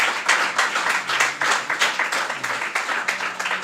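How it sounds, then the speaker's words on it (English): An audience claps for a speaker at a college Emancipation observance, a brief, close burst of dense hand clapping with an uneven rhythm. "Please give Mrs. Daniel a round of applause."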